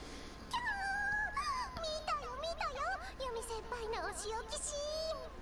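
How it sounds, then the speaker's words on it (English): A dog in the Skullgirls video game whimpers and whines in a string of high, wavering cries, moderately loud and alone. "And get used to seeing this dog, because she's going to show up again"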